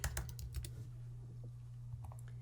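Computer keyboard keys tapped in a quick burst of light clicks, then a pause and a few scattered taps, set against a steady low hum in a quiet room.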